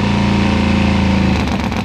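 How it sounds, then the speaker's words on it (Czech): A motorcycle engine running on methanol fuel at a racing event roars loudly and steadily with a deep, even drone, then its tone shifts and becomes rougher near the end. "takhle běží motor na metyl"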